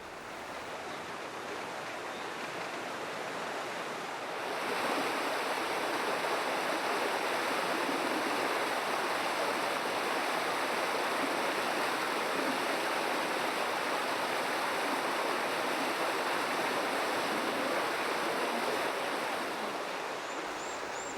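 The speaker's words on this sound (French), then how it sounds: "L'eau de la rivière est détournée via un canal en bois et vient se déverser dans une grande cuve, également en bois." River water diverted through a wooden channel pours into a large wooden tub used as an old peasant washing machine, a dense, steady roar of rushing water that swells louder after a few seconds and then holds constant.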